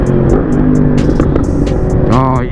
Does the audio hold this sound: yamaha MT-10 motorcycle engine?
yes